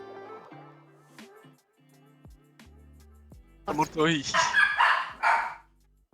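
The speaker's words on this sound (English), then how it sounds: "The dogs." Dogs bark in a short cluster of loud, close yaps near the end, following a stretch of steady electronic tones from a video game session.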